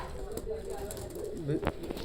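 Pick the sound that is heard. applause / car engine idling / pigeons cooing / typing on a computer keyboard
pigeons cooing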